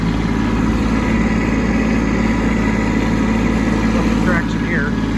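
A Kubota B2601 compact tractor engine runs steadily in snow, a continuous low, close drone throughout with a brief higher squeak or chirp near the end.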